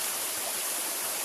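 River water flowing on a hot day, a steady, close, hissing rush of current with no voices over it.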